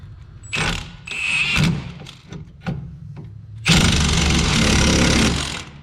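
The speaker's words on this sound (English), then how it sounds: "Grab your handy dandy 14mm and your 15mm impact." A 15mm impact wrench runs in several short bursts, then a longer loud burst, tightening bolts on the rear strut of a 2009 Chevy Impala in a garage.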